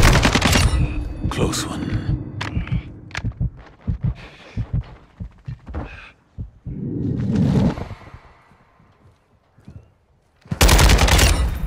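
Gunfire in the Modern Warfare 2 shooter during a team deathmatch: sharp bursts and single shots close by, with a lull in the middle and a loud final burst, under a brief spoken line.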